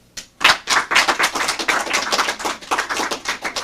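Studio audience applauding to vote for chicken fried steak during a 1992 television interview, a burst of dense clapping and cheering rising sharply after a brief quiet start and sustained throughout, close and fairly loud.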